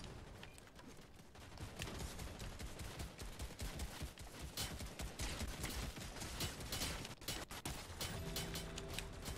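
Rapid gunfire in Fortnite, quiet and steady, a long run of sharp repeated shots with brief breaks and a few louder cracks, alongside other game sounds.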